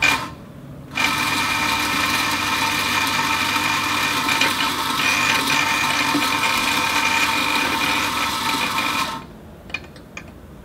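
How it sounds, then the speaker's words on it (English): Espresso coffee grinder whirring steadily for about eight seconds as it grinds coffee beans, a loud continuous buzzing drone that starts and stops abruptly with quiet room tone on either side. "we grind some coffee."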